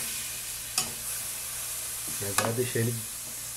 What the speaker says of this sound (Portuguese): Toda a cebola e o tomate. E deixar refogar.